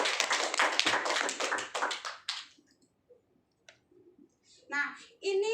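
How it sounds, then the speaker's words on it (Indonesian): Classroom applause in a microteaching session, a brisk burst of many hands clapping for about two seconds before fading, followed by quiet taps and a voice speaking. "Kita berikan aplaus dulu sekali lagi"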